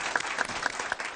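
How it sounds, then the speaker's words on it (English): An audience at a school board meeting gives educators a brief round of applause, a quick burst of clapping with a few distinct claps standing out. "if we can give these fine educators a round of applause one more time."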